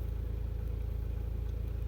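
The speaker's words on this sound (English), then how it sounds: "there it is, the big blue tractor." A big blue tractor engine rumbles on Glen Denoon Road, a steady, close, low idling drone that holds without a break and with no voices over it.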